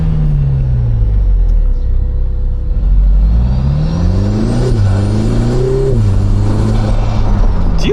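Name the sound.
Lotus Emira supercharged V6 blow-off valve fluttering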